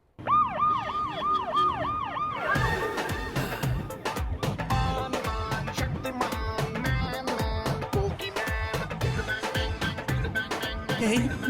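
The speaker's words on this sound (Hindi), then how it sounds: "सर की गाड़ी में सायरन लगाया और शक्तिमान की तरह गया है।" A vehicle siren wails in a rising-and-falling pattern at the start, then gives way to loud, busy music with sharp percussive hits.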